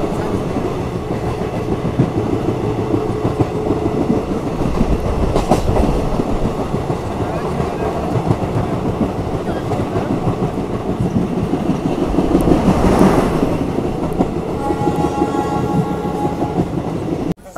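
A moving train on the Delhi to Kashmir run, heard from inside the carriage as a loud, continuous rumble with rhythmic clickety-clack from the wheels and brief swells as it rolls on.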